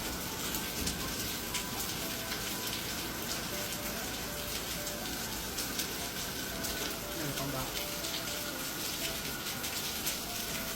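Heavy rain falls steadily as a dense, even hiss that lasts throughout, with faint voices and some tonal background noise beneath.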